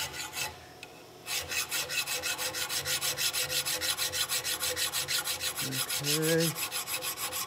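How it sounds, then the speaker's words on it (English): A finer file works a brass part along its parting line, giving close, rhythmic rasping strokes repeated evenly, after a short pause near the start; one brief spoken word and a faint tonal squeak appear. "I'll pick a little finer file here and see what happens."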